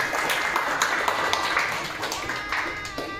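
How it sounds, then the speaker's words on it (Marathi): Members at an association gathering clap to welcome their newly elected woman president, a scattered, modest round of applause with distinct individual claps and taps, fairly close and tapering off toward the end. "आपण सर्वांनी त्यांच्या टाळ्या बाजून स्वागत करूया"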